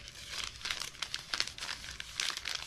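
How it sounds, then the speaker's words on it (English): Newspaper rolled into a stick being crumpled by hand, a continuous crinkling rustle with bursts of sharper crackles repeating over a few seconds, close and fairly loud with no talking. "Now with this stick, you take your hands like this, like so, and then you crumple down"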